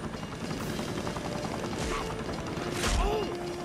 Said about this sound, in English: There's that evil chopper again.